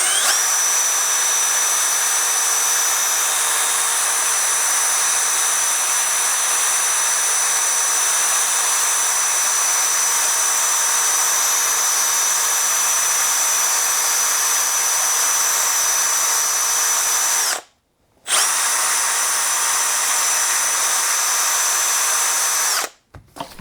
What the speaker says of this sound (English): I've got a small wire brush at the end of my drill.